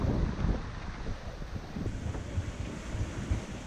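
Gusty wind buffets the microphone aboard the Hallberg-Rassy 54 sailing yacht Cloudy Bay off Montserrat, a low, rumbling roar that rises and falls over a faint wash of water, with no voices.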